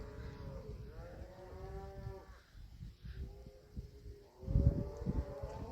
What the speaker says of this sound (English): It's a bunch of cows.